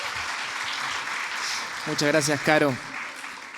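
Audience clapping at an oral storytelling and reading seminar, a steady wash of applause that continues under someone speaking briefly toward the end.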